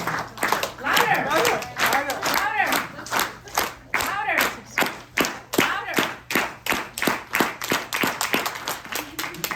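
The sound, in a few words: group of people clapping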